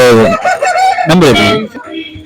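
A native rooster for sale at an Anantapur poultry market crows once, loud and close, with a long drawn-out call that tails off, while a voice speaks briefly nearby.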